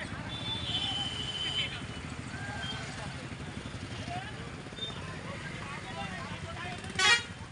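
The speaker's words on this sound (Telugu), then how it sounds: "ట్రాఫిక్ దేనికి జామ్ అయింది? మీరు చేపలు అమ్మడం వల్ల జామ్ అవుతుంది ఇక్కడ." Traffic jams up around roadside fish selling in Andhra Pradesh or Telangana: a steady idling and motor rumble of cars and motorcycles, short distant horn toots, and one sharper honk near the end, with no clear talk.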